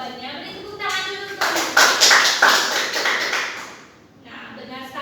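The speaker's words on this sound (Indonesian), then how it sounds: "Beri tepuk tangan dulu." Students in a classroom give a short round of applause lasting about three seconds, lively close clapping that fades out, with a voice talking just before and after it.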